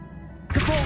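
Glacius ice spell cast in Hogwarts Legacy, a sudden loud burst of icy crackling and whooshing that starts partway through after near silence and holds strong to the end.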